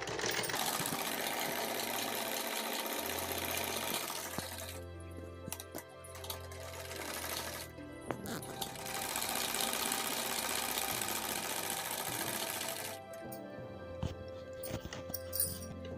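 A sewing machine stitches a ladies' suit in several bursts of rapid mechanical whirring and clatter, separated by short pauses with clicks and handling noise, close and fairly loud, no speech.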